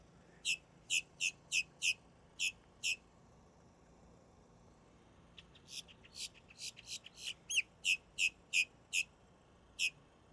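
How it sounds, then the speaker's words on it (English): A loud bird calls at Port Canaveral in a series of sharp, high chirps, then pauses and bursts into a faster run of repeated chirps, clear against quiet background. "That is a loud bird"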